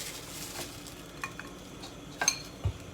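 Diced Spanish onion going into a hot pan for cauliflower dirty rice, a soft steady sizzle with a few light scraping stirs and clinks.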